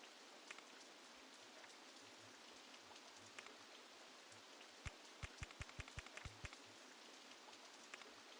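Steady rain falls in Rollercoaster Tycoon 2, a soft continuous hiss with scattered droplet ticks and a short run of low patters near the middle, heard quietly and alone.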